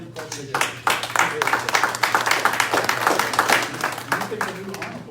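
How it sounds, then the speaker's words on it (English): Applause from an audience at a state corrections and criminal justice oversight task force meeting, dense hand clapping that swells after a short start and continues steadily and close, with a voice talking over it. "give them a round of applause"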